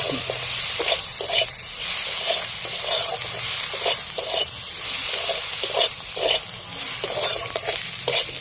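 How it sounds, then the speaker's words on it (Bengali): Chili powder, turmeric and salt get stirred through hot oil in a pan: continuous frying hiss with repeated rhythmic scraping strokes of a spoon, close up and fairly loud, no voices. "আবার তেলের মধ্যে নাড়াচাড়া করে নিচ্ছি"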